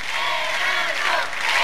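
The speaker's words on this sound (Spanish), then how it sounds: "El público le aplaude." A television studio audience applauds in a brief, dense, steady burst of clapping with some cheering mixed in, close and loud throughout.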